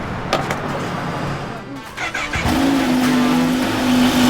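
A motorcycle engine catches and settles into a steady, loud idle with a rising whine after a few seconds of cranking and background voices.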